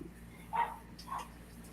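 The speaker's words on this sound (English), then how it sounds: "we've got 3 dogs in here with us" Indoors, a terrier gives two short, soft yips or whimpers about half a second apart, faint against a low steady room hum.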